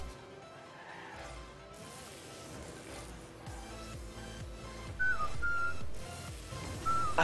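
Someone whistles a tune in a few short warbling phrases over game sounds from Arma 3 and Rocket League, the whistled notes faint and intermittent under the louder game noise.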